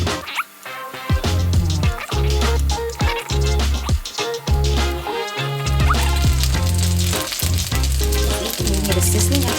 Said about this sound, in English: Sizzling, I just put another teaspoon of oil